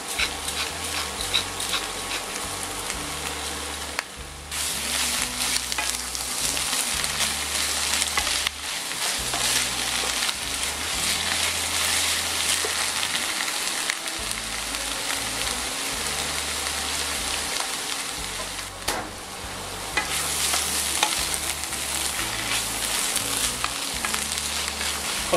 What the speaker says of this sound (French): Quand ça grésille comme ça veut dire que c'est bon.